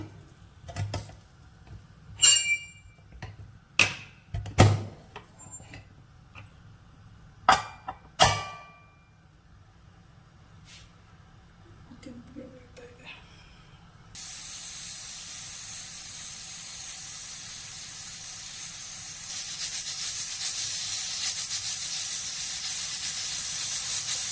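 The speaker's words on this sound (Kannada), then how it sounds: "ಲಿಡ್ ಕ್ಲೋಸ್ ಮಾಡಿ 2 ವಿಷಲ್ ಬರೆಸ್ತೀನಿ." A pressure cooker holding red chilli chicken gravy gives off a loud, steady steam hiss after a run of sharp kitchen clatters and knocks, the venting continuing unbroken to the end.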